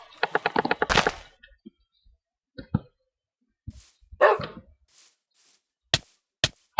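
Smile Dog in a Minecraft creepypasta mod barks in a quick, loud string of harsh yelps at the start. Scattered sharp cracks and thunks from the game follow, with no voices.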